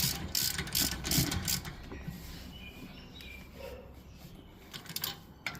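Close ratchet clicking in bursts as wheel spacer bolts are tightened on a BMW E90, louder early on and then fading to quieter intermittent ticks, with no talk.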